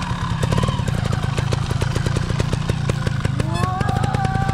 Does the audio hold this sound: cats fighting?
no